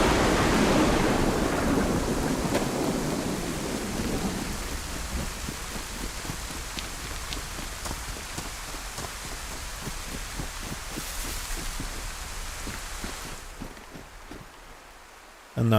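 Steady rain pours down in the DayZ survival game on the Livonia map, a dense hiss that is heavier at first and then eases to softer patter, with scattered dull knocks and no clear thunder.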